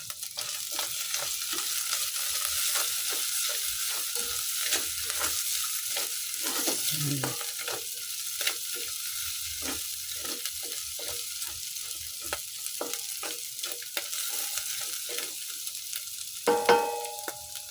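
Garlic sizzles steadily in hot oil in a pan as the base for a Filipino kaldereta, with a constant frying hiss, occasional stirring scrapes and a brief clink of a utensil near the end.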